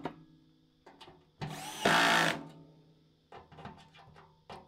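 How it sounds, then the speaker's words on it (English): A small cordless drill with its clutch set to 7 whirs in short bursts, with one longer, louder run in the middle and several brief blips before and after, close up in a workshop. "I've got the clutch set to 7 on the little drill here."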